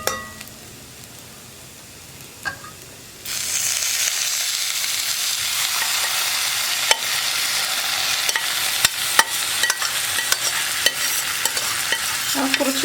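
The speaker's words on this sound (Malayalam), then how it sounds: "ഇനി ഇതൊന്ന് ഇളക്കി മിക്സ് ചെയ്തെടുക്കുക നന്നായിട്ട്." Cooked beef and koorka go into a sizzling masala and are stirred: a quiet start with a faint clink, then a sudden loud, sustained frying hiss with repeated sharp scrapes and knocks of a spoon against the pan.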